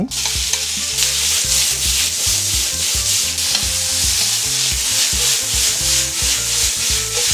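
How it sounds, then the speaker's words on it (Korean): Seasoned beef sears in a smoking-hot frying pan with olive oil for a goulash stew, giving a loud, steady sizzle over rhythmic scraping and stirring from start to finish. "밑간했던 소고기 바로 볶아주겠습니다."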